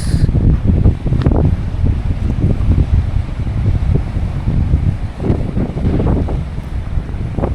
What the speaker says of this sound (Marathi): हवा खूप मस्त सुटले, जोरात अगदी.